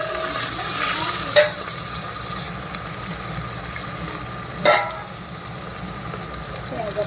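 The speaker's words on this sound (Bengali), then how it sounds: "ভালো করে হাতা দিয়ে পেঁয়াজ আর টমেটোটা ভালো করে ভাজা ভাজা করে নিই" Onion and tomato frying in a pan for a mutton curry while a ladle stirs them, making a steady loud sizzle with two sharp scrapes of the ladle against the pan.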